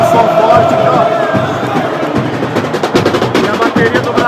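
Argentine supporters sing and shout in a stadium during a Brazil versus Argentina football match, a loud crowd roar that turns into sharp, rapid drum-like beats in the second half.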